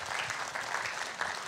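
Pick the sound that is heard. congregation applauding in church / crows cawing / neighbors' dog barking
congregation applauding in church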